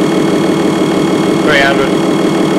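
A motor generator switched on and running in a battery desulphator setup gives a steady, close mechanical hum, with a brief higher whine rising midway. A voice speaks over it.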